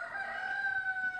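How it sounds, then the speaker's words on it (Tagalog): A single rooster crows briefly on a small farm in Samar, a clear, fairly close call with faint background clucking. "Ito naman yung mga manok."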